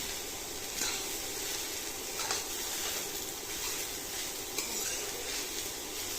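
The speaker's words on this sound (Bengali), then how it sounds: "মিডিয়াম ফ্লেমে গাজরটাকে খুব ভালো করে তো ভেজে নিচ্ছি" Grated carrots fry on a medium flame for carrot halwa, giving a steady, even sizzle with faint occasional spoon scrapes, moderately quiet and close.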